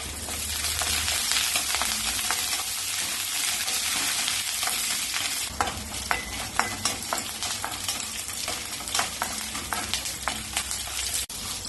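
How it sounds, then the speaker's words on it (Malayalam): Chopped ginger, green chillies and curry leaves being sautéed in a pan give a continuous close sizzle and hiss. Sharp spatula scrapes and stirring clicks grow more frequent in the second half. "കറിവേപ്പിലയും ചേർത്ത് വഴറ്റാം."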